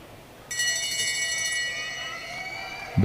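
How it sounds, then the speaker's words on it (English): Bell rung at a junior track cycling race at the national championships, a sustained bright ringing with steady metallic overtones starting sharply and lasting over two seconds, with a brief burst of voice at the end. "Bell sounds, Matty Stratton getting the bike up to full"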